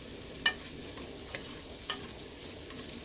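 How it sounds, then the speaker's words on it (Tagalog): Ampalaya con carne being stirred in a frying pan, with a few soft scrapes of the utensil over a steady low sizzle, close and quiet, no talk. "At haluin lang po natin yan. Hayaan po natin siyang maluto."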